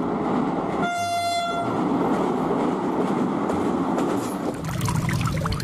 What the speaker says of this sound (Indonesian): Yang ini kereta api cepat.